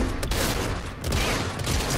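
Rapid gunfire in the Fortnite video game crackles in dense, loud, close bursts, with brief gaps between volleys and no talking over it.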